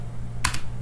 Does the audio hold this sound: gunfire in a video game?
no